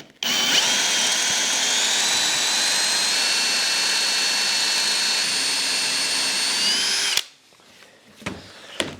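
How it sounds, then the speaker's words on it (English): Loud, steady high-pitched whine of a dowel cutter boring a dowel from a wood offcut held in a vise, running continuously for about seven seconds before stopping abruptly, followed by a few faint clicks. "So we have a dowel cutter here."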